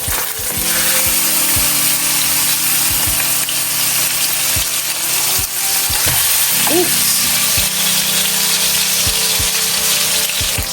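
Two salmon pieces frying in a hot pan give a steady, loud sizzle throughout, with an engine-like hum and occasional clatter as they are turned; a person speaks briefly in the middle.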